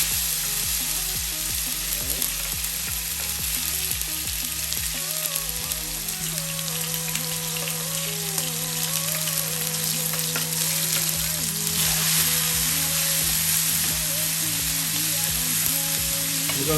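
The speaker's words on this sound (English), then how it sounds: "We're gonna saute these for about 3-4 minutes." Seasoning sautés in hot oil in a pot, a steady close sizzle and crackle of frying that runs continuously, with faint stirring scrapes and no talking.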